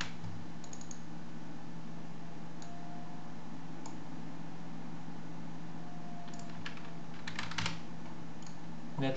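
Someone types a terminal command on a computer keyboard under Linux Mint, producing light, sparse key clicks with a denser flurry of taps near the end over a low steady hum.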